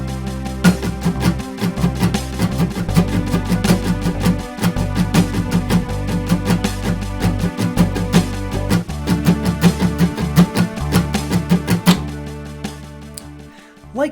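Acoustic guitar strums a steady, varied pattern with skipped strokes for a song, plucked chord tones ringing between dense rhythmic strums, close and moderately loud, with no talking.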